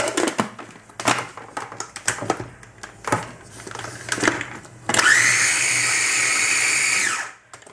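A small electric food chopper set to chop whirs loudly for about two seconds while chopping cabbage for homemade sauerkraut, preceded by clattering and handling knocks.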